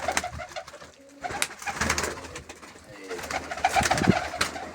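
Pigeons coo repeatedly at close range, their low throaty calls mixed with rustling and light fluttering sounds.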